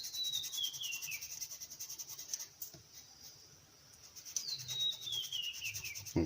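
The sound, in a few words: sanding a plastic 1/48 A6M2 model kit part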